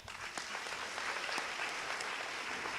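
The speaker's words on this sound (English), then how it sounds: "Give yourself a round of applause." Audience applause at a high school senior awards ceremony, a dense, steady roar of many hands clapping throughout, with no talk over it.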